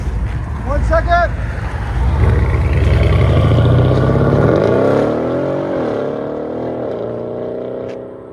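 A Mercedes CLS 63 AMG biturbo with a custom valved exhaust revs loudly, its engine note rising and falling in a couple of sweeps before settling to a lower drone, with some wind noise.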